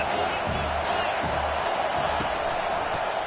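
Steady stadium crowd roar at an American football game, a dense continuous wash of fans cheering to rattle the offense before a third-down play, with a few dull thuds breaking through the noise.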